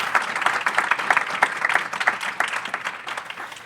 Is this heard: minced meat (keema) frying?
no